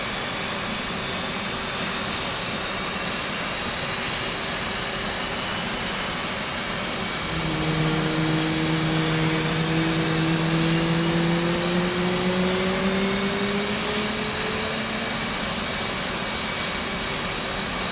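F/A-18 jet engine in the DCS World flight simulator spooling up from a cold start after the throttle moves to idle, a steady turbine whine with rising tones swelling midway and then settling, with no talk.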